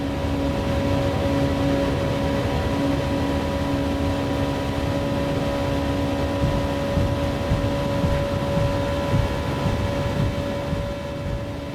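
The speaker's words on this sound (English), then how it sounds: "This NSX motor just has an amazing sound to it." A Honda NSX engine swapped into an S2000 in Gran Turismo 7 drones at a steady, loud high pitch as the car holds speed, a continuous engine tone with no talk over it.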